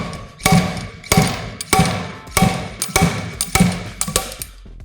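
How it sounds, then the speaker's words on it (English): Seven heavy metallic clanks in a steady rhythm, each a sharp strike of a slide hammer pulling out a dirt bike wheel bearing, close and loud. "simply pull up with the slide hammer"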